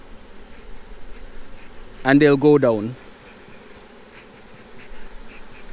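Honey bees at a beekeeper's shaker box make a faint, steady buzz in the background, while someone speaks briefly over it in the middle.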